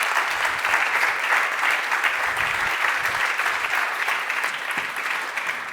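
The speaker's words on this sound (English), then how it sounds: "a big round of applause" Steady round of audience applause at a deep learning meetup on AI ethics in Vienna, dense continuous clapping from a room of people welcoming panelists to the stage, sustained evenly for several seconds.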